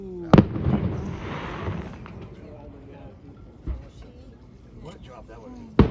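Loud fireworks bursts and sharp pops at a celebration, with three distinct booming explosions spaced several seconds apart and crackling in between, heard over voices.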